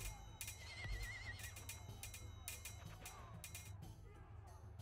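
A horse whinnies once, with a short wavering neigh, amid the bustle of an RTS battle in Vedelem: The Golden Horde, where faint clicks and combat effects carry over low game music.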